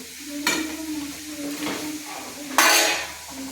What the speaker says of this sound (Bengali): এই যে বন্ধুরা, মাছের ঝোল ফুটে গেছে